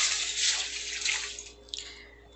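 Water pours steadily into a pot holding saved onion peels and a bay leaf, a close, gushing splash that fades and ends with a few small trickles, with no talking.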